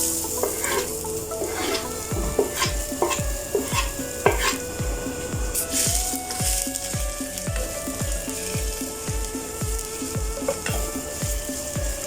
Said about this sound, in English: we are going to saute the onions